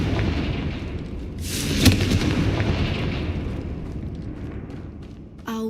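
A Confringo blasting spell in Hogwarts Legacy sets off a deep, rumbling explosion with a sharp burst, sitting in a steady low game drone and fading slowly afterward.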